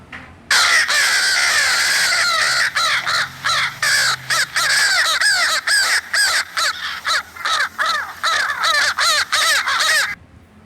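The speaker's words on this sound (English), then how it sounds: "तो crow is saying काव काव काव." A crow caws loudly and close by, harsh rasping calls repeating in quick irregular bursts with short gaps, continuing for about ten seconds with no talk.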